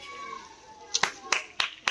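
Children in a classroom clap in a few sharp, separate claps near the end of a short stretch of background speech.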